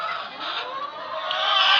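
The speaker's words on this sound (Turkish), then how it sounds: "biraz tavukların sesi çok geliyor." Many chickens cluck together in a dense, continuous chorus inside a coop, close and fairly loud, growing slightly louder toward the end.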